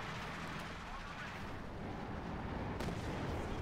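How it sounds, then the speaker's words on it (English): Pack howitzer artillery fire in the Company of Heroes 2 strategy game, a dull distant boom sitting in a constant roar of battle noise, faint and low in the mix. "Oh, good hit there from the pack howitzer."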